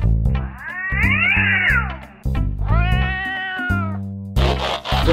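A cartoon kitten stuck on a house roof meows loudly and repeatedly, with long wavering cries broken by brief pauses, close and clear, set against a backing music track.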